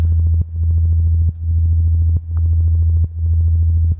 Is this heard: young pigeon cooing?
no